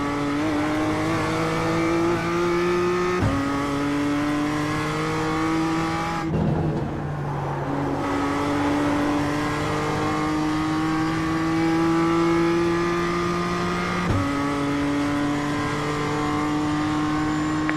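BMW M2 engine on a race track lap, revving high and climbing through the gears with clear upshifts, a loud steady in-car drone broken by a brief lift off the throttle.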